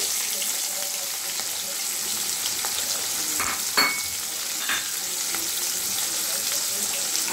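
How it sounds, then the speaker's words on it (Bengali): Dried red chillies and cubed onion frying in a pan for chili chicken, a steady close sizzle with a few brief scrapes of stirring midway. "এবার এর মধ্যে দুটো শুকনো লঙ্কা দিয়ে দিচ্ছি আর দিয়ে দিচ্ছি কিউব করে কেটে রাখা পেঁয়াজ"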